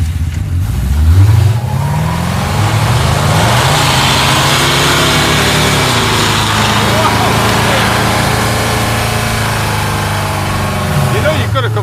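A 1940 Ford car engine revs loudly and up close, then settles into a steady, throaty run that lasts throughout, with a voice speaking over it.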